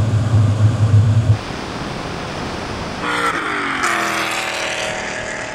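A BMW E39 M5 and an Alpina B10 accelerate side by side in a drag race, one gearbox kicking down; a broad, steady roar with wind rush, then an engine note climbing in pitch as revs build.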